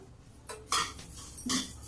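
Sesame seeds being stirred and roasted in a hot kadhai over a low flame, giving a few light metallic scrapes and clinks of the spoon against the pan, close by, in short bursts.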